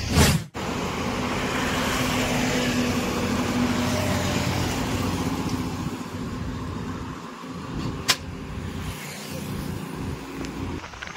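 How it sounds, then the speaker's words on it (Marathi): A car sets off on the road to Pune, heard from inside as a steady engine and road rumble with airy hiss, with a brief knock partway through. "तर आता आपण गाडी स्टार्ट केली आहे आणि आपण निघालो आहे आता पुण्यासाठी"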